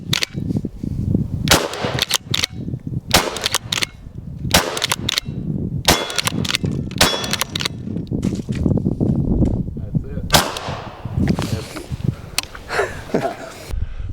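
Repeated .45 caliber HP Max gunshots fired outdoors into a battered ballistic gel head, sharp loud cracks spaced unevenly, mixed with handling noise and people talking between shots.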